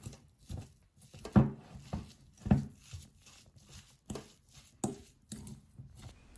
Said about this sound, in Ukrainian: І все розминаємо виделкою.